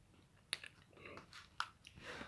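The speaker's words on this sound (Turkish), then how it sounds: "Ağızda çiğneyince çok az kalıyor sakız." Soft, close chewing of strawberry milkshake flavored Big Babol bubble gum, with wet smacking and a couple of sharper clicks, quiet and brief with no talking.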